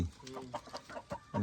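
Several short clucks from native roosters close by, coming in quick irregular bursts.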